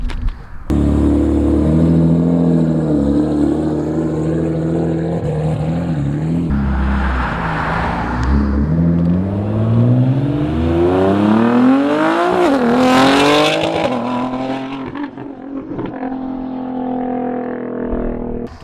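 A tuned Nissan GT-R engine revs hard and close, with rising and falling pitch sweeps, a sharp climb near the end and a loud, sustained roar.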